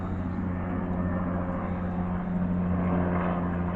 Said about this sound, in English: Just helicopters.